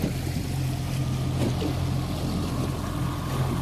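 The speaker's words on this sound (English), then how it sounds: "Got Captain Andy driving the boat." Motorboat engine droning steadily while heading out onto Lake Michigan for coho fishing in a few feet of waves, a loud continuous low hum with wind and water rush over it.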